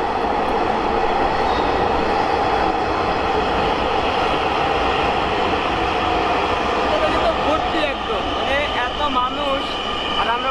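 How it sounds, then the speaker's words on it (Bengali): A Dhaka Metro train rumbles steadily through a station, with a continuous loud mechanical roar and screeching tones, while people talk faintly underneath. "ট্রেন আসতেছে"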